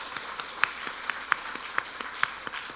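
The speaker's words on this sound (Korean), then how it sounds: "우리 격려와 축복의 마음을 담아서 뜨거운 박수로" Warm applause from a church congregation at a Sunday worship service, a steady wash of many hands with a few sharper claps standing out, moderately loud and fairly close, no voices over it.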